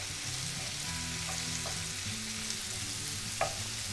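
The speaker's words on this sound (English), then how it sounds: "And get those all sauteed with the mushrooms." Mushrooms and onions sautéing in a pan for mushroom stroganoff, a steady close sizzle with faint stirring scrapes and a brief utensil clink near the end, no talking.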